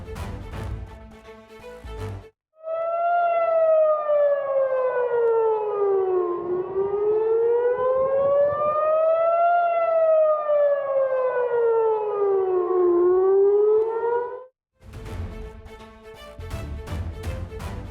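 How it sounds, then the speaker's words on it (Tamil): A loud air raid warning siren wails steadily in Jerusalem, its pitch rising and falling in slow sweeps over about twelve seconds, with bursts of other noise before and after. "இஸ்ரேலின் ஜெருசலேம் நகரில் போர் அபாய எச்சரிக்கை சைரன் தொடர்ந்து ஒலித்தது"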